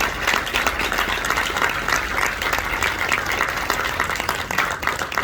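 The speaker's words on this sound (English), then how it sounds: "Let's give them all a round of applause." Sustained, full applause fills a military Assumption of Responsibility ceremony, a thick wash of many hands clapping at once that holds evenly throughout without letting up.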